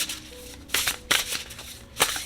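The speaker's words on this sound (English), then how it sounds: "So let's go ahead and shuffle." A deck of oracle cards being shuffled by hand during a tarot reading, several quick riffling bursts of cards slapping together, close and clear with no talk.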